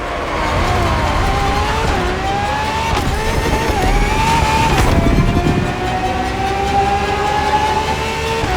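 A Ferrari FXX K racing car drives in The Crew Motorfest, its engine a steady, loud drone with rising and falling pitch sweeps as it shifts, continuous throughout with no talk.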